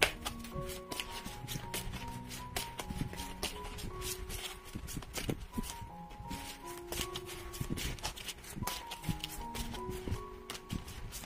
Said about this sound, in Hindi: तो शुरुआत करते हैं कार्ड शफल करके।